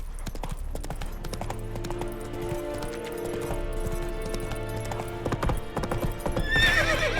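Roach, the horse in The Witcher 3, gallops with steady, rhythmic clip-clopping hooves over a low game soundscape, and a neigh or whinny comes near the end.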